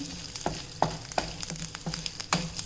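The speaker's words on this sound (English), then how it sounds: "now let's just fry this nicely to brown." Coriander seeds with mustard seeds frying in a pan for a spice powder, with a soft steady sizzle broken by several sharp clicks of stirring close by.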